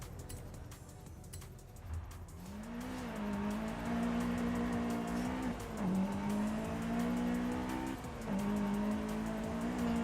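Racing car in the video game Forza Horizon 5, engine note rising and holding steady with tire squeal and skidding, loud and continuous after a quieter opening.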